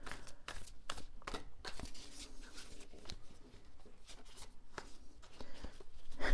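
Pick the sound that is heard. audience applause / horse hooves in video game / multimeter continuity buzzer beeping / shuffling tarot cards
shuffling tarot cards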